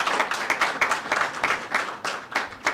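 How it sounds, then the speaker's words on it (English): Guests at a savings cooperative's official launch and office opening clap for an honoured guest, a short burst of fairly close, rhythmic, pulsing hand claps lasting under three seconds. "Let's clap for him, ladies and gentlemen."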